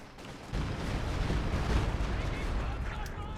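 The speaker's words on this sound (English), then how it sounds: "here comes the Stuka firing a barrage" A Stuka dive bomber fires a rocket barrage in the World War II strategy game Company of Heroes 2, producing a dense, rumbling roar of rapid blasts that swells after a brief lead-in and holds steady.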